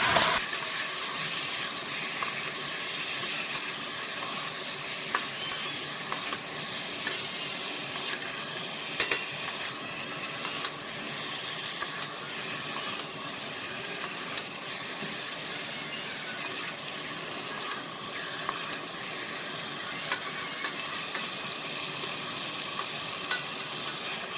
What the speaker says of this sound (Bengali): এখন মাংসটা একটু ভালোভাবে কষিয়ে নেব।